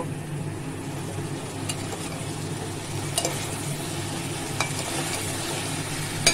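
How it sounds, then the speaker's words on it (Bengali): Pointed gourd and potatoes frying in a pan with a little turmeric make a continuous sizzle, broken by occasional scraping and clinking as the spoon stirs them. No one speaks. "ঢাকা দিয়ে দিলাম, এবার নেড়ে দেব।"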